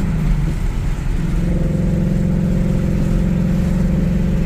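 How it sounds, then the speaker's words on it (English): A motorcycle engine with a modified exhaust idles and rumbles with a deep, throaty exhaust tone, steady and close, rising slightly partway through. "Remember, I did a change out on the exhaust with Mr. Macman."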